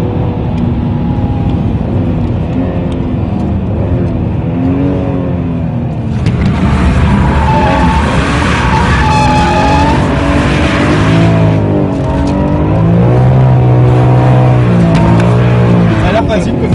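A BMW M3 drifting on a race circuit, loud continuous engine roar rising and falling with revs, with skidding tire noise mixed in throughout.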